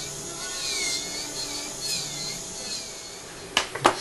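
A dental handpiece trims a provisional polycarbonate crown for an upper incisor implant, producing a thin, wavering high whine that rises and falls in short bursts, followed near the end by a few sharp clicks, close and moderately quiet.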